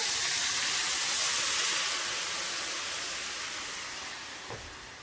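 Crémant de Bourgogne wine poured into a very hot pan sizzles as a loud, broad hiss that fades gradually over several seconds.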